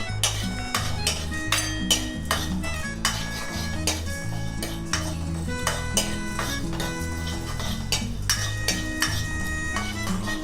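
A metal spoon stirs whole spices, including cloves, cinnamon, stone flower, star anise and mace, as they dry-roast in a pan for Karaikudi chicken curry, giving steady, busy clinks and scrapes that keep close and continuous throughout.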